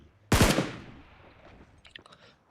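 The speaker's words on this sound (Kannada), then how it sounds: "ಬುಲೆಟ್ ಖಾಲಿ ಆಗುತ್ತೆ ಅಂತ ಸಿಂಗಲ್ ಬುಲೆಟೇ ತಲೆಗೆ ಹೊಡಿತಾ ಇದ್ದೀನಿ" A single loud gunshot in a zombie shooting video game cracks out and fades over about a second, followed by a few faint clicks.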